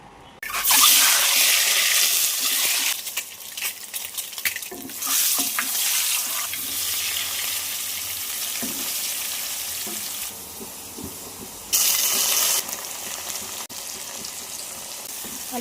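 Potatoes and onions fry in a pan, a loud, continuous sizzle with stirring scrapes and clatters, broken by a brief quieter stretch and then a sharp renewed burst of hissing; no one talks.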